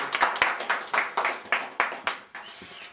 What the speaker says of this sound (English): give him a round of applause first